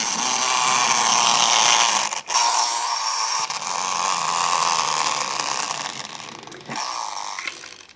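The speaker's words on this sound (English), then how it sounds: "All you have to do is wind her up and the little wheels will make her go" A small wind-up motor whirs as it drives the little wheels of a toy figure, a loud, continuous buzzing rattle broken by a couple of brief clicks and dips before running down.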